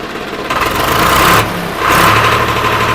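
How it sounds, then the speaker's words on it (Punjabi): A 2015-model tractor in good condition running at a village tractor fair, a loud close engine drone that surges twice as it revs, then settles back to idle. "ਇਹਨੂੰ ਸਟਾਰਟ ਕਰਕੇ ਦਿਖਾ ਟਰੈਕਟਰ ਇਹਦੀ ਆਪਾਂ ਮਿੱਤਰੋ ਵੜਕ ਦੇਖਦੇ ਆ"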